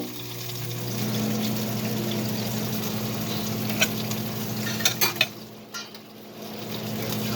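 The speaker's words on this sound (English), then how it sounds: "sear the other side real quick" Continuous sizzling and hissing of food searing in a hot pan in a cabin kitchen, with a steady low hum underneath and a few clanks toward the end.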